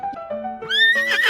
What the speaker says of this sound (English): What the horse says.